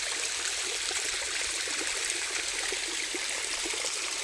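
Water pumped by a farm field motor gushes steadily, a continuous rushing flow like a stream, close and unbroken with no talking.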